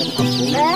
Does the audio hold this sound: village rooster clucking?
yes